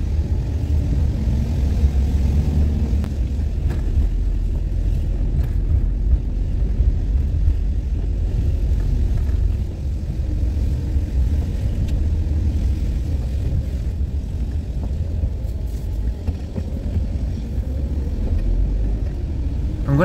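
A camper van drives along a rural Yorkshire road in heavy rain, its engine and road noise a steady, dense low rumble that stays loud and continuous throughout, with no talking.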